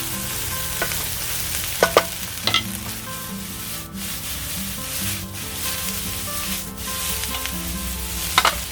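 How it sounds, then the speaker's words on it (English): Prawns and rice frying in a pan, stirred through a continuous loud sizzle, with scattered knocks and scrapes of the utensil against the pan and a steady hum underneath. "A little stir up."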